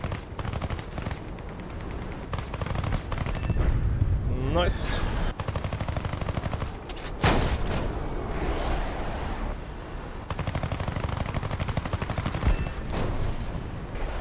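Aircraft machine guns chatter in rapid sustained bursts during a Swedish-plane air combat game, loud and close over a continuous engine roar, with pauses between volleys and one brief spoken word.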